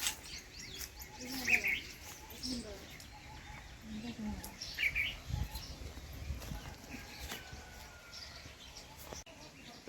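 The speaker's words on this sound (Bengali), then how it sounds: "আপনারা শব্দ শুনতে পাচ্ছেন, কিচিরমিচির।" Faint bird chirps come and go in brief bursts over a quiet outdoor background with some low murmuring.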